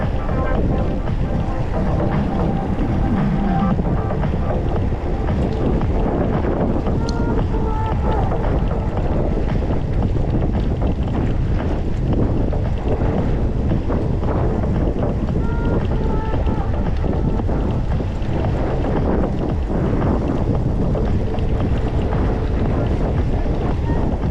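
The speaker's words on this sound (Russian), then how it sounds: "Ветер, ветер, встречный ветер." Headwind buffeting a microphone during an April ride in Crimea between Zelenogorye and Sudak, a loud, continuous low rumble that gusts and swells without a break, with no voices.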